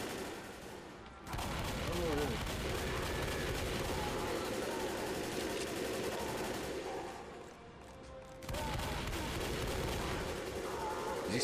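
Sustained, loud gunfire from a squad of players shooting at a Tank in the Left 4 Dead video game, near-constant bursts filling the scene, with a brief lull partway through before the shooting resumes.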